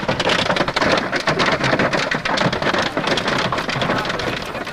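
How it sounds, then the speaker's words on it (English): A thunderstorm pours down heavy rain with hail, a dense, loud, relentless roar of drops hammering nearby surfaces, with crackling impacts throughout and no talking. "Eventually, the onslaught subsides and the storm passes over"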